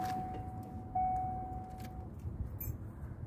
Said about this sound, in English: let me take up the key out of the freaking ignition so that it will shut up here